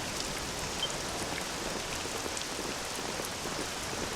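Rain falling in the video game Dragon Quest VII Reimagined, a dense, even hiss of steady rainfall on surfaces with no thunder, constant throughout.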